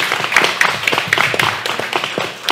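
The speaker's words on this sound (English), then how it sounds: "and let's applaud Francesca." A small audience at a multilingual community arts event claps briefly in a brisk, close, uneven patter of hands.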